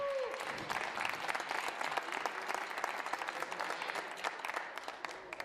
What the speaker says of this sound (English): Ladies and gentlemen, a big round of applause for Miguel Rodriguez.